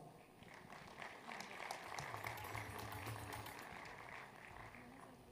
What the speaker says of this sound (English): We all can applaud for this.